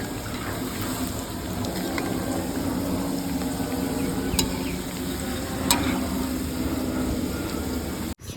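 Singara pastries deep frying in hot oil at home, a steady dense bubbling sizzle with a few sharp spatter pops, continuous for about eight seconds before cutting off abruptly near the end.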